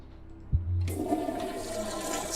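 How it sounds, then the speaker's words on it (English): A toilet flushes in the Stonewall Penitentiary game, a low thud followed by a loud, close rush of water that keeps churning and draining for a couple of seconds, with no talk. "It still flushes."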